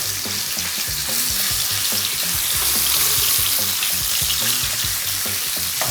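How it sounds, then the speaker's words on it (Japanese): Ground chicken and Chinese cabbage stir-fry in a pan with a loud, continuous sizzle, with repeated spatula scrapes and clacks against the pan in an uneven rhythm and no talking. "さあ潰したりせずにこう切るようにして炒めていきますか。"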